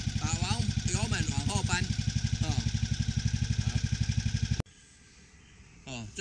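An American 4218 riding lawn mower engine, started with the key, chugs loudly and evenly at idle, close by, with someone talking over it before it cuts off abruptly.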